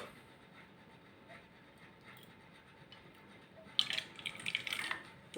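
Sparkling Chupa Chups strawberry soda poured into a glass, a fizzy hiss and splash rising in the last couple of seconds after a quiet stretch, close and moderately loud.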